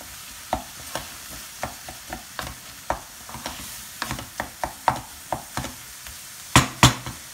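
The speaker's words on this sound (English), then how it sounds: "Add salt to taste or namak and mix it again." A spoon scrapes and knocks against a pan as coriander powder and salt are stirred into a cooking dish, giving a steady run of close, sharp clicks with a few louder strikes near the end.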